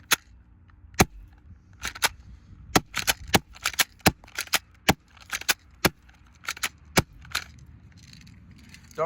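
A Walther PPQ airsoft spring pistol is fired at point-blank range into a duct-taped target, giving sharp, snappy clicks and cracks at irregular intervals over quiet background rumble.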